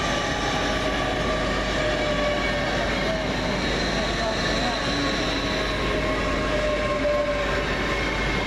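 Great Western Railway class 800 unit 800 317 at Reading station, platforms 9 and 10, working a London Paddington to Bristol Temple Meads service: a steady, loud rumble and whine of the train running continuously close by, with faint voices in the background.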